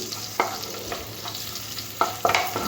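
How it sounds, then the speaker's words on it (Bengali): Minced garlic fries lightly in butter in a pan, a soft steady sizzle broken by a few sharp scraping stirs near the end, close and with no talk. "রসুন কিমাটা একটু হালকা ভেজে নেবো"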